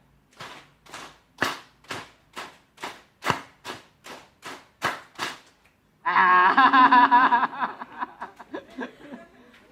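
Group of participants at a marriage guidance class clapping the 'tepuk 3' pattern together: about a dozen crisp, loud claps in a measured rhythm, followed by a burst of mixed voices and laughter.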